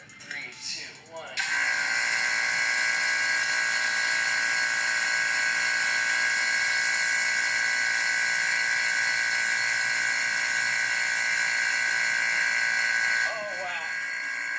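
Vacuum chamber pump running: a loud, steady high-pitched electric whine that starts abruptly after a brief stretch of talk and holds constant for about twelve seconds before dropping off, with voices at the beginning and end.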